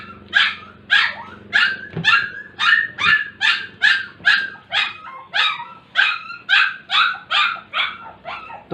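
A puppy yaps in a fast, insistent series of high barks, close and loud, with faint music and murmuring in the background.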